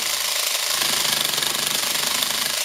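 A rapid, buzzing mechanical chatter runs continuously and evenly, an addiQuick electric needle felting tool punching into polyfoam close by with no pauses.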